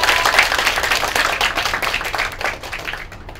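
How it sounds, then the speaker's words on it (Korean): Audience applause for a ship's navigator after a shipboard tour, dense clapping that is loud at first and gradually fades over a few seconds. "항해사님 수고하셨습니다. 이야기가 나올지 모르니까. 박수 부탁드립니다."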